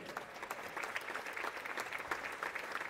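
Audience applause for a senior cheerleader being honored at a high school basketball game between Logan-Magnolia and Treynor, a steady, moderately distant clatter of clapping hands filling the gym without any talk.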